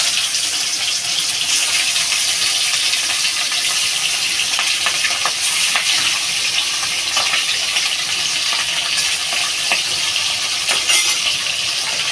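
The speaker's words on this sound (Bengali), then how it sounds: "তেলটা গরম হয়ে গেছে মাছটা দিয়ে দেবো" Hilsa fish is lowered into hot oil for a Bengali curry, and a loud, dense, continuous sizzle and spatter of frying fills the whole stretch, with no talking.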